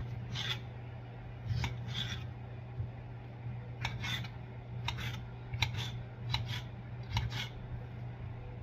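Raw chicken being cut into small bite-size pieces for a chicken pot pie, with repeated short crisp cutting strokes in uneven bursts over a low steady kitchen hum, close and fairly quiet, no talking.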